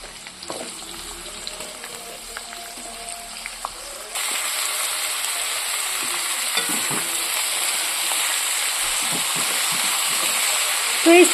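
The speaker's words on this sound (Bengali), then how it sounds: "আলু আর কুমড়ো আর পেঁয়াজ এইগুলোকে ভাজবো।" Potato, pumpkin and onion frying in a wok with dried chillies and cumin, a steady loud sizzle that jumps up partway through and continues with stirring scrapes and clatter to the end.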